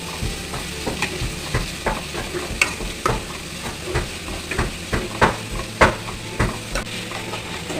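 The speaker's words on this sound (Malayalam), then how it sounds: "നല്ലോണം പച്ചമണം മാറുന്നത് വരെ നല്ലോണം വഴറ്റി കൊടുക്കണം" Masala with curry leaves sautéing in a pan for Kerala-style egg roast, a steady sizzle broken by regular scraping strokes of a spatula, close and fairly loud with no voices.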